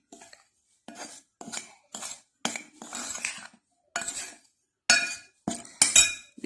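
Utensil scraping and clinking against a bowl while salt and flour are stirred together for Ghanaian bofrot puff-puff dough, in a run of close, rhythmic bursts separated by short pauses, with no talking.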